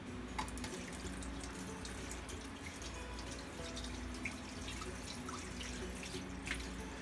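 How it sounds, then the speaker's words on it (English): Hands washed under a running kitchen tap, giving a steady, quiet stream of water with small splashes and drips throughout, no voices. "I'm going to wash my hands"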